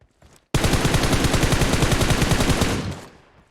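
Loud close burst of rapid automatic gunfire in a shooter video game, a dense string of shots lasting about two and a half seconds before trailing off, preceded by a couple of faint taps.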